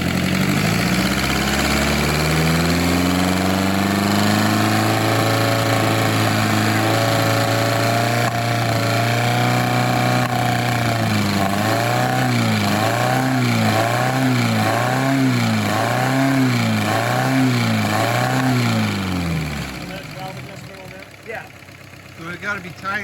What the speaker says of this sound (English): now there's a pop in this at RPM, which means that the valve cap is too far.